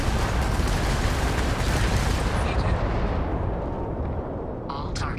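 Spaceship weapons fire in the Starfield video game, a dense, loud roar of rapid blasts and rumbling explosions that runs continuously for several seconds, with a few sharp electronic chirps near the end.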